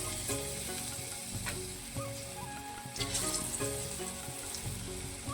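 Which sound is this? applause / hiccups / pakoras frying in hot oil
pakoras frying in hot oil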